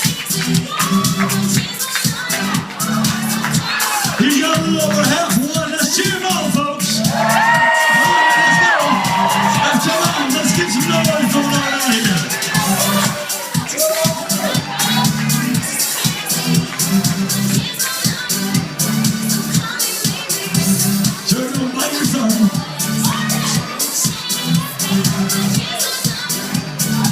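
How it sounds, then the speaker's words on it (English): A crowd cheers at a corn dog eating contest at the 2013 Strawberry Festival: loud, sustained whoops, shouts and children's yells blend into a continuous roar, with voices calling out throughout. "Let's cheer him on."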